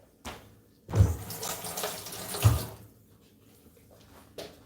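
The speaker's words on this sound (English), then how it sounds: "Let me rinse my knife off." Running tap water rinses a kitchen knife in a home kitchen after chopping green onions, the stream splashing in bursts from near the sink, loudest in two surges and fading between them.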